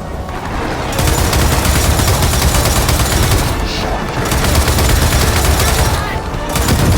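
Heavy mounted turret gunfire in the video game Gears of War 4 roars as a dense, continuous barrage, loud and close, with brief dips in the rapid stream of shots.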